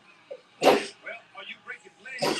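A single sharp sneeze bursts out early, followed by commentators talking over a 1996 WCW Starrcade wrestling broadcast, with another abrupt burst near the end.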